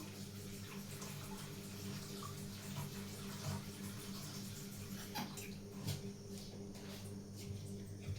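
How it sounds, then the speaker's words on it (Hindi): A kitchen tap streams water into a metal milk pot, a soft steady rush with occasional splashes and clinks, heard faint and close. "ये मैंने भगोने में पानी ले लिया।"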